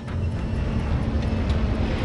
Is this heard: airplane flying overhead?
yes